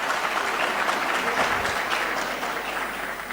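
A crowd applauds steadily, a dense wash of clapping that holds at an even level throughout with no voices standing out.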